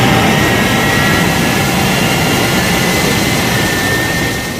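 Thunderbird 1 aircraft lifting off in a TV-show sound effect: a loud, continuous jet roar that holds steady and fades slightly at the end, with no voices.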